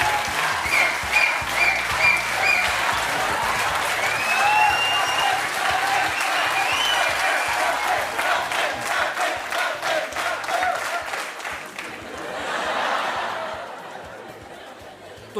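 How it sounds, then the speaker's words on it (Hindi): A TV studio audience claps steadily and loudly, mixed with cheers and some laughter, before the applause fades away near the end. "तो ये तालियां बजती रहनी चाहिए।"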